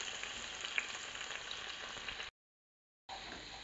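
Tomatoes are dropped into hot oil with browned garlic, setting off a loud, steady frying sizzle for a shrimp and tomato spaghetti. The sizzle cuts out briefly and then resumes.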